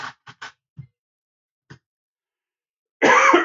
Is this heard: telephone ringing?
no